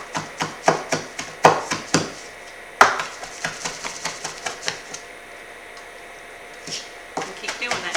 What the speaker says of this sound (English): you can smash it really good and then just chop it